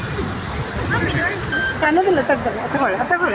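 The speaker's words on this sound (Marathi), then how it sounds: "हा घटप्रभा नदीवरील हा वॉटरफॉल आहे गोकाक" Gokak waterfall on the Ghataprabha river roars as a broad, steady rush beneath nearby conversation and crowd chatter.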